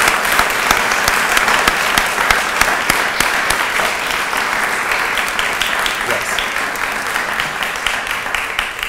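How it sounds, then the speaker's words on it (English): Sustained applause from an audience, dense clapping at a steady level throughout with no voices standing out. "I'm hoping that I can ask you to join me in a round of applause for Kim on this accomplishment."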